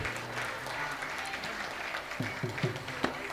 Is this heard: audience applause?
yes